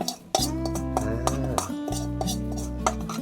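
Crispy fried small fish and chilli stir-fried in oil in a pan, with a spatula clanking and scraping against the metal in sharp repeated strikes over a ringing musical background.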